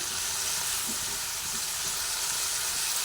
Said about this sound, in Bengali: এরপরে এইভাবে বেশ কিছুক্ষণ ধরে নাড়াচাড়া করে নেবে